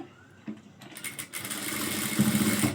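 A sewing machine stitches a straight seam on a blouse, starting with a couple of clicks and then settling into a steady, close, buzzing run that grows louder.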